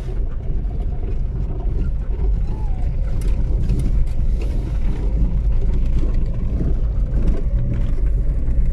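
A car drives steadily along with the window partly open, its engine and road rumble low and constant, with wind buffeting throughout and no talk.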